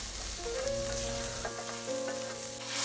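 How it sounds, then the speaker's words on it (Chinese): Blanched beef chunks sizzle as they are stir-fried with scallion and ginger, a steady crackling fry with occasional scrape and stir noises from the pan and no talking. "然后倒入刚刚焯水的牛肉块， 加入葱姜炒香"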